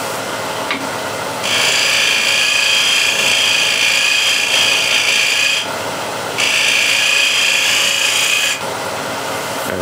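On a wood lathe, the wing of a spindle gouge shear-scrapes a cove in spinning wood, giving two long, loud, steady rasping passes separated by a short pause over the lathe's background whir.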